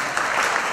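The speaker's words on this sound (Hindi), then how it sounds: "ताली हो जाएगी" A school audience at a school film festival event claps together, a steady wash of applause filling the short moment without speech.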